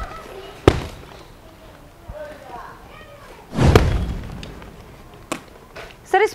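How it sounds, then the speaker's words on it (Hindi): Firecrackers bursting outside a surplus winter clothing warehouse during Diwali, a few sharp bangs and a heavier rolling boom, with voices talking over them. "ये बम फूट रहे हैं, दिवाली है"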